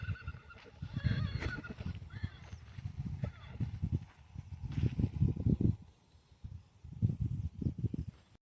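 A 3.5-year-old Marwari mare on a farm, hooves clip-clopping in uneven bursts close by, with low thuds, some bird honks and other farm noise around it.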